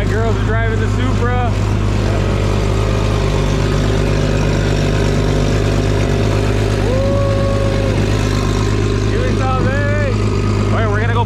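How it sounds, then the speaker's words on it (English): A pocket bike engine drones steadily and loudly at a street car event, with voices talking over it throughout. "Riding the pocket bike."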